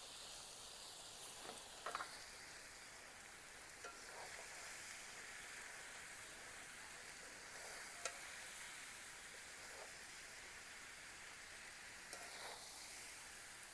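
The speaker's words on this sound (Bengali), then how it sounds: "মিডিয়াম আঁচে কয়েক মিনিট মতন এটাকে নাড়তে হবে।" Cabbage being stirred in a pan over medium heat, with a soft steady sizzle and faint scraping strokes of the spoon, quiet and without talking.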